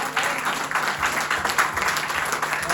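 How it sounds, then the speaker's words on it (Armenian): A church congregation claps together in a dense, steady burst of applause that holds evenly throughout, loud and close. "մենք Աստծուն ենք ծափարում եւ նա արժանի է"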